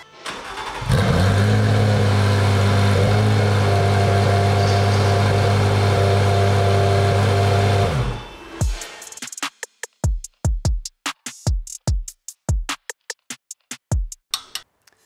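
A Porsche 911 engine cranks and catches, then idles loud and steady for several seconds before cutting to a series of sharp, rapid throttle blips that rise and fall in quick succession.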